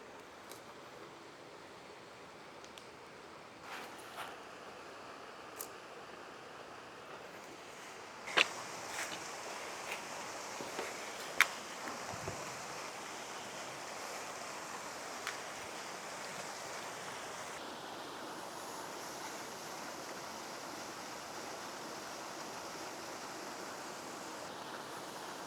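Steady broadband rush of an autumn waterfall, a constant wash of falling water heard from nearby with a few faint clicks and knocks over it, no voices.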